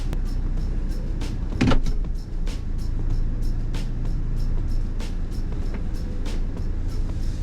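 A power sunroof shade in a Toyota Land Cruiser 250 hybrid closes with a steady electric motor whir inside the cabin, a short click near the start, and a faint ongoing hum.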